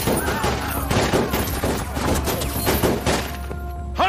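Dense bursts of gunfire and crashing impacts fill a Hindi-dubbed South Indian action movie scene, loud and continuous under a short spoken line, with a sharp metallic ring at the end.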